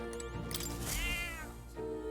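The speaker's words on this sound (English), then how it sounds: "That's a good kitty." A cat meows in the video game Metaphor: ReFantazio, one long drawn-out meow standing out over a steady game soundscape with a background musical tone.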